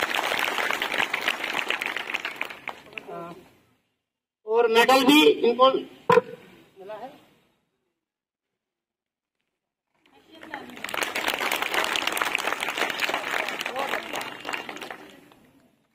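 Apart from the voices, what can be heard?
applause at a school prize ceremony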